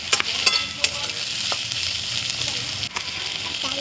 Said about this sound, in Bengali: আদা রসুনটা ভেজে নেব হালকা করে ভেজে নেব